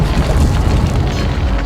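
Deep, sustained rumble of rolling thunder used as a sound effect in an audio drama, loud and continuous with low booming swells and no talk over it.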